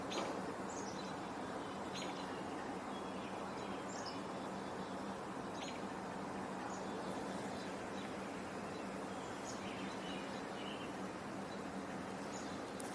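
Faint chirps and short bird calls scattered over a steady outdoor hiss, chickadees and robins calling at a distance.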